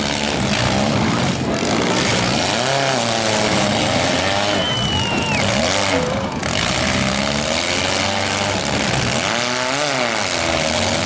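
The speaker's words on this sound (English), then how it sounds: "Four car Demolition Derby." Several pro mini car engines roar and rev at once at a demolition derby in Georgetown, pitches rising and falling constantly over a loud, rough rumble, with crowd noise blended underneath.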